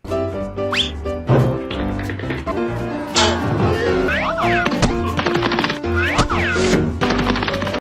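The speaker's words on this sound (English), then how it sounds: "They are, if you had slapstick sound effects." A rapid run of cartoonish comedy effects: squeaks, slide whistles, boings and thwacks over a bouncy backing, loud and close.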